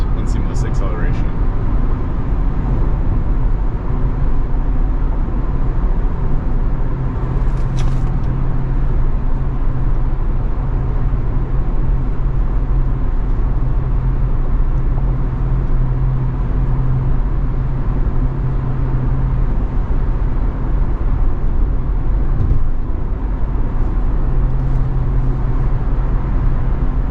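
Interior road rumble from a self-driving Tesla speeding up along a freeway on-ramp, a steady loud low hum of tires and motion that holds for the whole stretch, with people talking over it.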